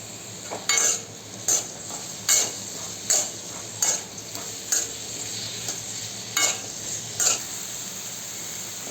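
Chopped onions fry in a pan for a paneer masala gravy, a steady soft sizzle broken by about ten evenly spaced scraping strokes of a spatula as they are stirred, close and fairly loud, with no speech.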